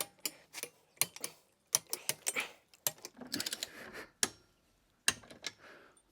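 Nuts being tightened on a tow hitch being fitted to a Tesla Model S, heard as a series of sharp, close ratchet-like clicks and metallic ticks in irregular bursts with quiet gaps between.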